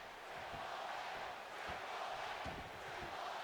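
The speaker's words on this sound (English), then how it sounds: "I hate that they automatically have the crowd in this game chant Triple H." A dense arena crowd in the wrestling video game WWE 2K19 roars in a steady, continuous wash, chanting for Triple H, with faint low thumps underneath and no voices standing out.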